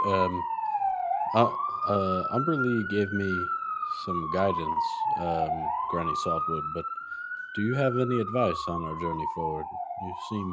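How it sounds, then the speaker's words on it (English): An emergency siren wails steadily outside, rising and falling in long sweeps for the whole stretch while people talk continuously over it in a tabletop role-playing game session. "Sorry for the siren"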